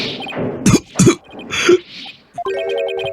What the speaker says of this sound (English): he's coughing and hacking and wheezing